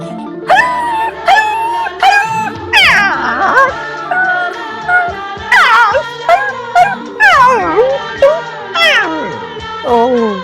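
A voice imitates a dog whining and yelping in a comic sketch, giving a string of loud, rising and falling whimpers in bursts that repeat across the clip.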